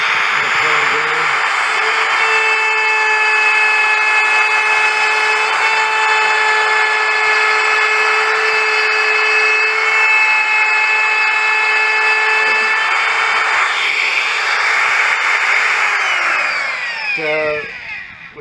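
Battery-powered handheld router fitted with a 1/4 inch flat end mill plunging into a wood board: a loud, steady high-pitched motor whine with cutting noise runs for most of the stretch, then winds down near the end.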